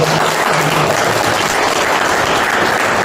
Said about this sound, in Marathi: माधवराव टाकलीकरांना सर्वांनी एकमताने टाळ्या वाजवा